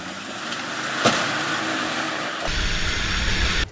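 A truck drives through deep sand on an African track, a steady engine drone with rattling and a thump early on, then a heavier low rumble as it works harder, close and without talking.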